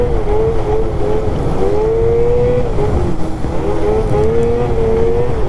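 A Catalyst 858 snowmobile engine drones loud and close while riding on a slippery surface, pitch rising and falling steadily with throttle changes in a continuous buzzing whine.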